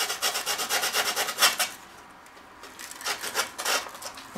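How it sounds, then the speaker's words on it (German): Sandpaper rubs by hand in quick rhythmic strokes to deburr edges during PC hardware work, briefly pausing before the steady scraping resumes, close and alone. "Jetzt noch mit dem Schleifpapier schön entsraten alles."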